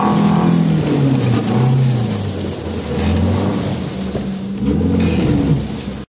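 Lada Vesta engine revving as it digs into a sand-gravel mix and fails to back out, a droning, rising and falling motor note, fairly loud and steady over outdoor noise.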